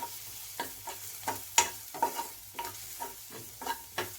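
Garlic frying and being stirred in a pan after onions, with soft sizzling under repeated scraping strokes of a spoon at a steady rhythm, close and fairly quiet.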